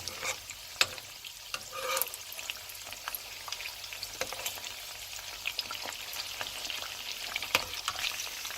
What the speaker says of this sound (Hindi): तो इसको फ्राई होने देते हैं ईच साइड 2 से 3 मिनट के लिए